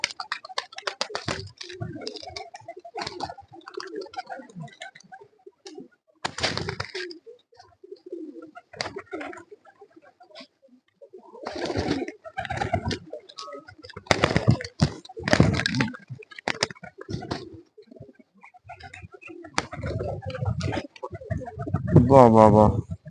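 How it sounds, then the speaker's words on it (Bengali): Pigeons eating from a hand peck in rapid irregular clicks and taps close by, mixed with low coos, while a person calls to them now and then. "এ হচ্ছে খুবই ভালো পায়রা।"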